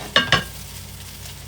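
Fried rice with sesame oil and green onions sizzles in a hot pan, with two quick close scrapes of stirring early on and another at the end over a steady frying hiss.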